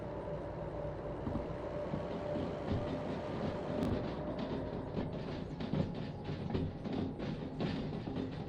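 A train shunts backwards in the railway game Derail Valley, giving a steady, moderately quiet rumble of rolling stock with light rhythmic clicks and clunks from the wagons, and no talking.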